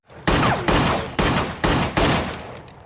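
Five sharp pistol gunshots in a film ring out in a fairly even sequence, each a loud crack with a short decaying tail, no voices.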